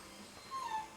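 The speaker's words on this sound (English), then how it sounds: "There's a dog whining" A dog whines in a short, high, thin cry that rises briefly midway, faint and distant behind a steady background hum, with no talk.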